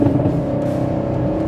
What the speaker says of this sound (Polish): Pięknie strzela z wydechu przy tych przegazówkach.